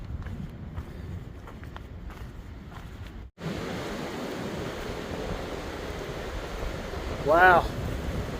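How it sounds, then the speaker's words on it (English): Strong wind rushes steadily through a mountain draw on a hiking trail, a loud continuous roar buffeting the microphone, with a brief exclaimed word from a voice partway through. "wind has really picked up"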